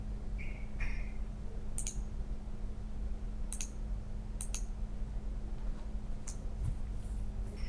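A computer mouse clicking during circuit drawing on a PC, several sharp, distinct clicks spaced irregularly, some in quick pairs, over a low steady room hum.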